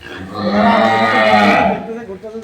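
A high-quality dairy cow on a farm in Barguna gives one long, loud moo lasting over a second, close by, then trails off into quieter farmyard sounds.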